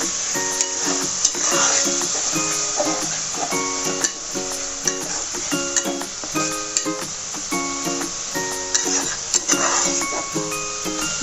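Ground tomato paste sautéing in a hot pan for a bighead fish curry, a steady busy sizzle with repeated scraping and stirring clinks of a utensil against the pan, close and fairly loud.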